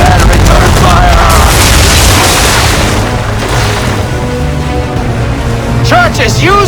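Ship cannon fire erupts in an Assassin's Creed 3 naval battle: heavy, loud booms and rumbling blasts dominate, with shouting voices mixed in throughout.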